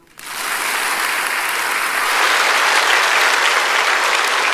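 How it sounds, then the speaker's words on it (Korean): A church congregation breaks into sustained applause during a sermon, many hands clapping in a dense, even roar that swells quickly and holds loud to the end. "박수."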